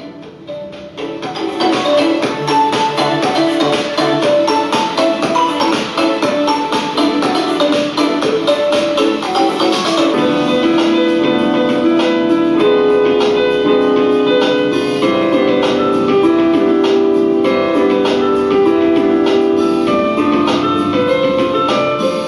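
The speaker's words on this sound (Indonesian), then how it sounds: "ini adalah suara dari speaker Sakumi Mi Y6" Music plays continuously through a Sakumi Mi Y6 Bluetooth speaker on a work-from-home desk setup, full and steady at fairly high volume with no talk over it.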